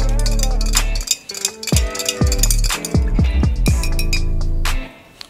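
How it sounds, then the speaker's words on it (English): Arrack is whisked with kithul treacle in a glass, giving quick liquid clinks and swishes in a close, busy rhythm that fades into short separate taps. "I'm going to give it a good whisk."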